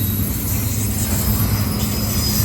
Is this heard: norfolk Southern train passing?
yes